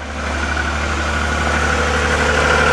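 A 1992 Chevy Lumina idles steadily just after a cold start in minus 16 weather on a nearly dead battery, a loud, even engine drone with a constant low hum and no voices.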